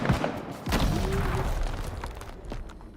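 Missile launch in an armored-squad video game: a sharp thump opens into a loud, sustained rushing roar with a brief whistle, then a rumbling tail that fades over a few seconds.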